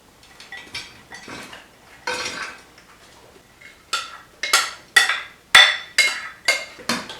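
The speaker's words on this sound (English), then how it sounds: "I'm going to transfer this to a bigger bowl so that I can mix it up real nice." Eggplant cobbler batter is moved into a larger bowl and mixed, with a run of close, rhythmic utensil clinks and scrapes against the bowl, getting louder and more regular toward the end.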